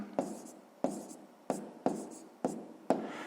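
Pen strokes on paper while working a sixth-grade maths exercise: five or six distinct scratchy bursts at a steady rhythm, each a sharp onset fading out, close and fairly quiet, with no speech.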